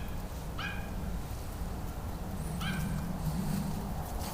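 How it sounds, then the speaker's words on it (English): A dog gives two short, high yelping whimpers a couple of seconds apart, set against steady outdoor wind noise during a scent-tracking session. "Now we got a dog distraction."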